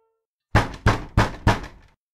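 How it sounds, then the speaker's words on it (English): Four heavy, evenly spaced knocks on a wooden front door, close and loud, each with a short ringing decay, in an otherwise silent room. "A procession of heavy-handed knocks came from the front door."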